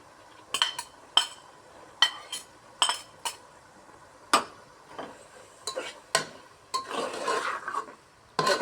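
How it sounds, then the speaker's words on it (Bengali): A metal spatula scrapes and clinks against a pan as boiled figs are stirred and fried alongside chana dal and prawns, about a dozen sharp knocks at an uneven rhythm, then a brief burst of sizzling near the end, close and with no talk. "সুন্দর করে কষিয়ে নিচ্ছি"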